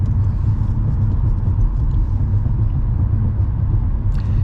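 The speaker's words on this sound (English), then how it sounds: "You can tell by the sound of the car, it's a really nice, smooth drive." Steady low rumble of a car cruising smoothly, even and continuous with no revving, heard from inside.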